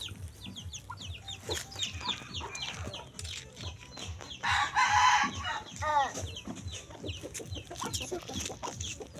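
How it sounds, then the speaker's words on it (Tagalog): Hens clucking in short repeated bursts while a rooster crows loudly partway through, with other birds chirping in the background. "Ito yung manok ni Kyrie guys."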